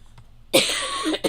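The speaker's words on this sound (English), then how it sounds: "I can't with this coughing." A single loud, harsh cough bursts out after a quiet moment, followed by a short second cough.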